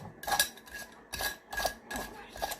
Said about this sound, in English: I just filled that up, and I'm going to put the lid on.